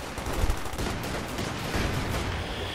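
Gunfire rattles through a Company of Heroes 2 battle, a dense, continuous wash of shots and rumbling blasts that stays loud and busy from start to finish.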